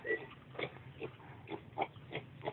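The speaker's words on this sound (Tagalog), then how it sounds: "Kita yung baboy." A pig at a house in Barong grunts in a steady series of short, low snorts spaced about half a second apart, fairly faint and alone with no one talking.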